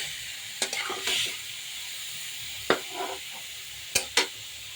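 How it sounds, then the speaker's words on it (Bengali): Chopped kohlrabi stirred in a frying pan: a few scattered scraping and clattering strokes of a spoon over a faint background sizzle, quiet and intermittent. "এবারে দিয়ে দেবো ওলকপি। দিয়ে ভালো করে নাড়াচাড়া দিয়ে নেবো।"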